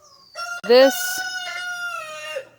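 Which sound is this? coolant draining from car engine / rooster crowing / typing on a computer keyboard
rooster crowing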